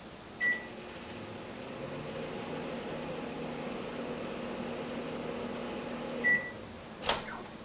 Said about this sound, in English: Next, I'll stick this in the microwave for about